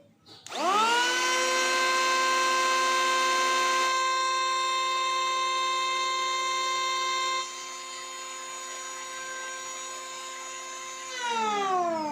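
A Modern M9 cordless electric wood planer revs up, runs with a smooth, steady whining hum, then winds down as it is switched off. The sound is close, loud and even, with no talk.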